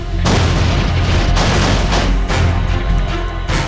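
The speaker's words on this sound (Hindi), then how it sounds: "पूरी रात एयरपोर्ट के अंदर से रह रहकर गोलीबारी और धमाकों की आवाज आती रही" Heavy gunfire and explosions during a terror attack on Karachi airport, loud repeated booming blasts and bursts rolling one after another with no voices.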